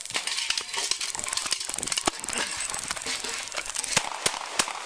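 Gunshots ring out during a tense police confrontation with a Florida deputy, a chaotic burst of sharp loud cracks over heavy crackling and rustling noise, with no clear speech.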